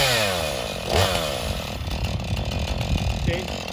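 A Husqvarna 440e chainsaw runs steadily and loudly up close, its engine droning continuously with slight shifts in pitch.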